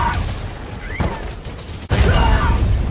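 Heavy cannon blasts in the video game Helldivers 2, loud booming bursts with a sharp hit near the two-second mark, mixed with continuous battle noise and a voice talking.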